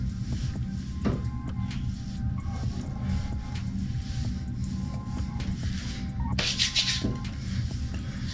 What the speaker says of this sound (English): And I rub it in. And just massage that in the beard.